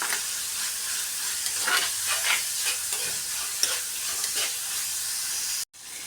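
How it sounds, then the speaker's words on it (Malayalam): Salt-rubbed, washed bitter gourd sautéing in a pan, a continuous close hiss and sizzle with repeated soft stirring scrapes and a tap, cutting out briefly near the end. "ഒന്ന് വഴറ്റി കൊടുക്കണം പാവക്ക"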